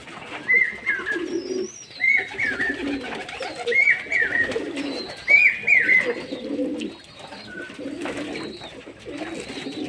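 Domestic pigeons cooing repeatedly in a steady rhythm while bathing on a hot summer day, with soft splashes and fluttering beneath the calls and a few faint chirps in the background.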